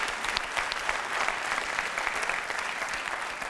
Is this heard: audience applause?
yes